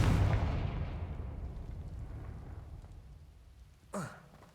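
A Confringo blasting spell bursts in Hogwarts Legacy with a loud, booming explosion that rumbles and slowly fades over several seconds, followed by a short sharp sound near the end.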